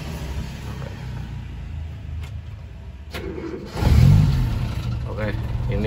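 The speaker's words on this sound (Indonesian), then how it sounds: "kita coba masuk dan kita coba untuk start up dari kondisi mesin ya." A Toyota Kijang pickup engine cranks and fires about two-thirds of the way in, then settles into a steady idle, following a stretch of quiet cabin noise with someone speaking.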